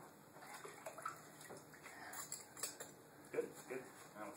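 Water from a faucet runs while dishes are rinsed at a sink, a soft, uneven splashing with faint clinks and drips underneath as someone talks quietly nearby.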